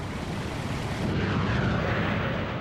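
WWII carrier aircraft, such as Hellcat and Corsair fighters or Helldiver and Avenger bombers, fly past with a dense, roaring engine drone that swells slightly midway, loud and continuous with no talking.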